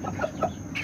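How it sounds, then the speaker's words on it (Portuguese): Backyard chickens give a couple of quick, close clucks in a short burst. "Tem umas galinhas, duas galinhas cada um com dois pintos."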